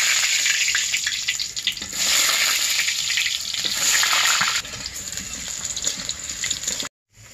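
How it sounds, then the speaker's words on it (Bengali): Potatoes dropped into hot oil in a karai on a clay stove fry with a loud, steady sizzle and crackle, with occasional stirring scrapes, then the sound cuts off abruptly near the end. "তেল গরম হয়ে গেছে, আলুগুলো দিয়ে দেব।"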